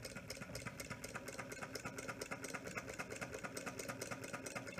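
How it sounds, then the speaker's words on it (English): A small electric motor with a split ring commutator runs on 3 volts, giving a faint, steady whirring buzz with rapid, even ticking throughout. "this is my motor working at 3 volts after a tiny push"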